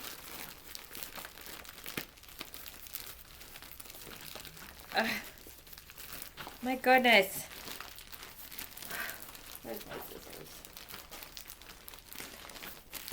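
Crinkling wrapping rustles and crunches as someone struggles to unwrap a tightly taped mailed package, with louder tearing bursts mid-way, while a person talks over the handling.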